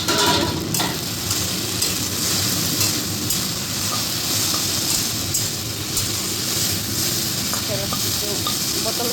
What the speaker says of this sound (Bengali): এদিকে তো ভাজাটা বসিয়ে দিয়েছি